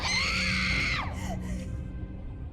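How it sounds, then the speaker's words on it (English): An actress in the horror film SUNOD lets out a loud, high, sustained scream that breaks off after about a second, leaving a noisy rumbling background. "Is that the actor's actual scream?"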